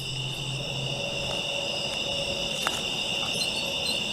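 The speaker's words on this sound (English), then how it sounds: "I've heard crickets in the cemetery all the time." Crickets chirp in a cemetery, a steady, even high-pitched trilling that carries on without a break, with a few faint clicks and a low background murmur.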